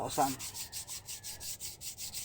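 Quiet, rhythmic back-and-forth rubbing of very fine 1000-grit sandpaper on a surface, a soft hissing scrape repeating steadily about five times a second.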